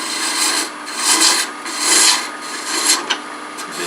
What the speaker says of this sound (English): For that I'm going to use a spindle roughing gouge.